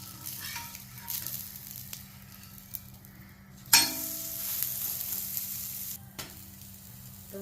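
Multigrain dosa batter poured thin like a roast sizzles on a hot pan, a steady close frying hiss with a brief louder burst of crackle partway through, no voices.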